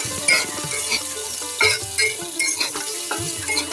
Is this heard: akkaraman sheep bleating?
no